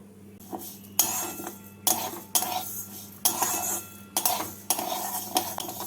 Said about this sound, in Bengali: গ্যাসে কড়াই বসিয়ে কড়াই গরম করে এর মধ্যে ডালগুলোকে দিয়ে দিচ্ছি